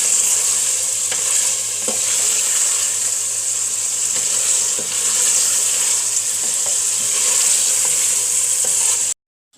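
Mutton korma stir-fried in the bhunai stage, a steady loud frying sizzle with scraping stirs running continuously until an abrupt stop near the end.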